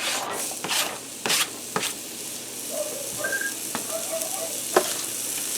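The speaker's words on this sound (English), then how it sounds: "we're going to saute this onion in here for a few minutes" Finely diced onion sautés in a pan for shrimp Alfredo, a close steady sizzle broken by repeated scraping strokes of a stirring spoon and a few light knocks.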